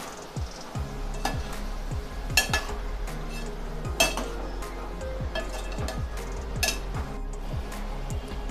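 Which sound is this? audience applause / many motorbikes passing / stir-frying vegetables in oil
stir-frying vegetables in oil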